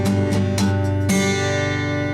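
Acoustic guitar strummed through a song's chord changes, a steady down-up rhythm of bright, ringing chords played close and alone, the last chord left to sustain.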